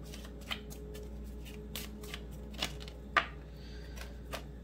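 Tarot cards being shuffled and drawn, a soft papery hum under a handful of faint, scattered flicks and snaps of cards, one sharper card snap standing out near the middle.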